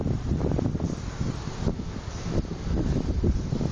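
Strong wind roars and buffets the microphone in continuous gusts, loud and close, with no one speaking.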